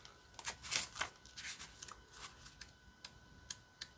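Tarot cards from the This Might Hurt deck by Liminal 11 being shuffled, giving quiet, crisp papery riffles and flicks in short bursts with small gaps between them, up close.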